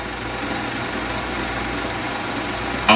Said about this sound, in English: you change wheel spacing with engine power to the correct width for the job